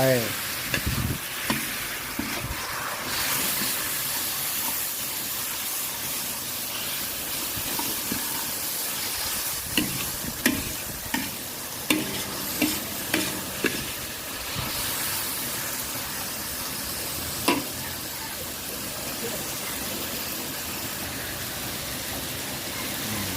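Tomatoes fry and sizzle in a hot pan for a Shan-style egg dish, a steady loud hiss broken by repeated knocks and scrapes of stirring, close and continuous with no talking.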